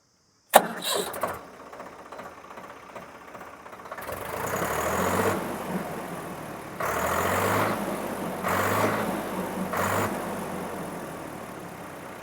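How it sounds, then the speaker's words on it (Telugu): A Swaraj 855 FE 4WD tractor diesel engine cranks after a sharp click, catches and settles into a steady knocking idle, then throttles up in repeated surges, close and moderately loud with no talk. "ఇప్పుడైతే మనం ఈ బండి అయితే స్టార్ట్ చేసి బీటింగ్ ఎలా ఉందో విందాం"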